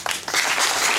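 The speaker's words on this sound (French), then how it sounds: "On applaudit pour elle." A crowd at a political gathering breaks into applause, a dense, steady wash of clapping that stays loud throughout.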